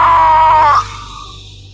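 A woman's loud, sustained high scream in a haunted building horror tale, piercing and wavering for under a second before cutting off into a dark reverberant tail.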